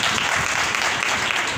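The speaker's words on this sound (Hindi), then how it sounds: "ताली बजा के" Steady applause fills a church service as the congregation claps hands together, a dense, continuous patter lasting the whole stretch with no voices standing out.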